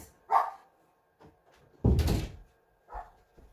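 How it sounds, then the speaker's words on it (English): A dog barks a few times nearby, short sharp woofs spaced apart with a louder burst in the middle, amid a quiet room. "Sorry for the dog sound."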